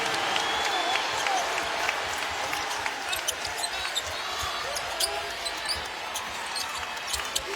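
A packed arena crowd at a Tennessee at No. 6 Kentucky college basketball game in 2020 keeps up a loud, steady roar, with sharp ball bounces and sneaker squeaks popping through the din.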